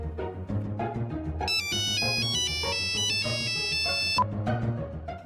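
A phone ringtone plays close and clear for a few seconds, a bright electronic melody of repeating tones over a low background murmur, ending abruptly.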